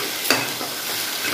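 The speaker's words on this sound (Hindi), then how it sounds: "एठी आमे टिके मसाला को फ्राई करिबा, आरो टिके तेल एकदम भल लगे टिके फ्राई करिबा" Masala paste for egg curry fries in hot oil, giving a soft steady sizzle with a few brief stirring scrapes close by over just over a second. No one speaks.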